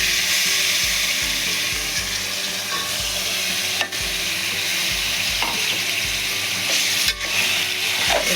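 Washed mutton pieces sizzling and frying in a hot pan for a curry while being stirred, a loud continuous crackle with a few sharper scrapes, no voices.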